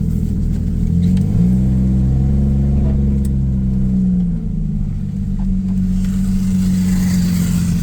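Ford Ranger pickup fitted with a Toyota 1JZ-GTE turbo engine, a loud close rumbling idle that rises into revs and settles back down, steady throughout.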